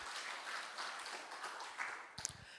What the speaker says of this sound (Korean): 우리 가이지 목사님께 감사의 박수 드리겠습니다